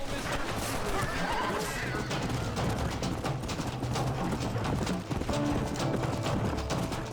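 Horse galloping in Red Dead Redemption, with continuous hoofbeats and a whinny mixed into a loud, busy game soundscape of crashes and action noise.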